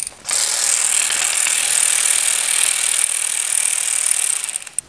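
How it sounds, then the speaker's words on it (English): Ratchet wrench loosening the pinch bolt on the brake-side fork leg of a Harley motorcycle, a close, continuous rapid clicking whir lasting about four seconds and then stopping, with no talk. "Now we're gonna loosen the pinch bolt on the brake side fork leg."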